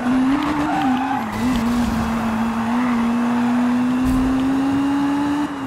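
A Jaguar C-X75 drifting in Need for Speed Rivals, its tires squealing in one long, loud, steady screech that wavers slightly in pitch over a roaring engine, close and continuous.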